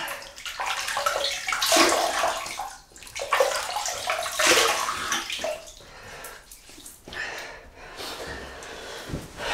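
Water splashes close by in irregular bursts as hands wet a face before a wet shave with a Wilkinson Sword Classic razor, mixed with breathy gasps and snorts.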